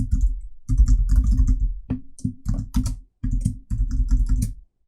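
Typing on a computer keyboard during Photoshop work, with quick, close runs of key clicks broken by short pauses.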